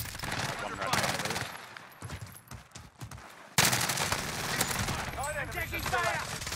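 Automatic gunfire in a video game battle royale firefight, bursts of rapid shots that drop off briefly and then return loud and close, with voices calling out over the shooting.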